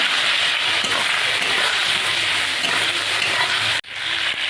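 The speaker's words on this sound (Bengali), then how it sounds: "বেগুনগুলো আমি ভালো করে ভেজে নেব।" Eggplant pieces rubbed with salt and turmeric fry in hot oil in a pan, giving a loud, steady hiss and sizzle up close that cuts out abruptly near the end before resuming.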